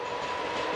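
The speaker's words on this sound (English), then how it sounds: "Train from Trieste." A passing train from Trieste rumbles steadily near the World War One trench system at Monfalcone, Italy, a continuous rolling rail noise with a faint tonal whine and no talk.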